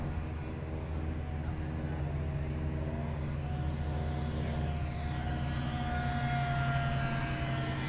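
A small E-flite Twin Otter 1.2m model airplane drones overhead, its engine pitch sweeping up and down as it passes, steady and moderately distant with a faint background hum.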